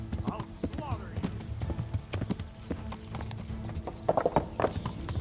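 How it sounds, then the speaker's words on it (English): Horse hooves clip-clop in a steady rhythm in the medieval video game Kingdom Come: Deliverance, with a whinny and snorts close by, while someone talks over the game sounds. "Hello, is this my horse?"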